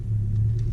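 A Honda Civic X fitted with a custom race intake and larger MAF housing rumbles steadily while driving, a low, continuous engine drone heard from inside the car, with no talking.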